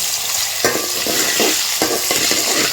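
Chopped onion sizzles loudly in hot oil while a spoon scrapes and stirs it around the pan in a few distinct strokes, a steady close frying hiss with no voices.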